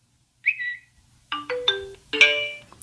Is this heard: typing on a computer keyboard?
no